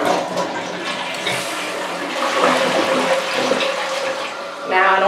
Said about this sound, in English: So when I flush it